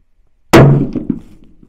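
A single sharp shot from a Weatherby Backcountry Carbon 2.0 rifle on a shooting range, a loud close crack that decays quickly into a short rolling echo after a moment of silence.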